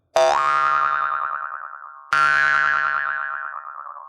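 Two twangy jew's harp plucks, each ringing out with a buzzing, wavering overtone sweep that slowly fades; the second strike follows about two seconds after the first.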